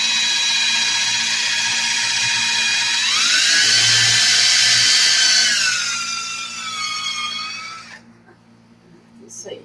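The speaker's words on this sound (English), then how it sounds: "So what I'm going to do is get the drill." A close, high-pitched whine of a power drill running steadily while drilling into a centerpiece, its pitch dipping as it bites under load, then cutting off.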